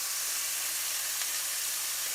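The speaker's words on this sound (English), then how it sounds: "And you can probably hear the sizzle." A burger sears on high heat, giving off a constant, even sizzling hiss that stays steady and unbroken throughout.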